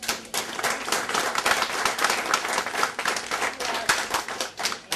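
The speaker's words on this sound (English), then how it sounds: "Can we just give him another round of applause?" Audience applause at a poetry reading event, brisk and fairly loud clapping from a small crowd, sustained for several seconds with individual claps standing out.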